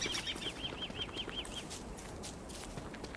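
Birds flapping in Don't Starve Together during the Lunar New Year Year of the Pig King event, a rapid run of about nine fluttering wingbeat chirps, faint and quick, fading into soft ambient noise.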